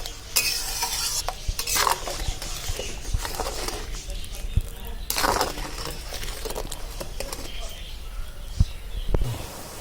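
Jaggery dissolved in water boils in a pan for a sweet dried jujube (kul) pickle, stirred with repeated scraping strokes and occasional louder bursts of bubbling, close and steady throughout.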